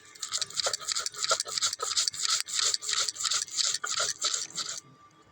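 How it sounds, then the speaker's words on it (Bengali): Mustard seeds ground on a grinding stone give a rhythmic, close scraping rub, repeated back-and-forth strokes for several seconds before stopping. "এই যে এবার আমি সর্ষেটা বেটে নেব।"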